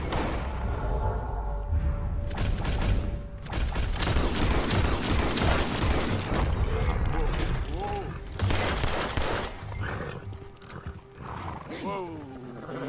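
Gunfire erupts in a Red Dead Redemption 2 standoff over cargo, shots crackling amid galloping horses and whinnies, with voices talking over the chaos throughout.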